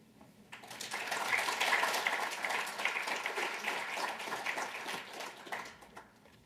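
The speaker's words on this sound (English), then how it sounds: "Let's give them just another round of applause for all of them" An audience at a conference session applauds after a flash talk, steady clapping swelling and then slowly tapering off, heard from a distance and fairly faint, with no voices over it.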